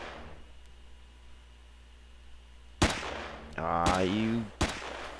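Weapon fire from the Empyrion video game: a few sharp, loud shots ring out after a quiet stretch, with a short burst of tonal game effects between them and a brief exclamation from a man.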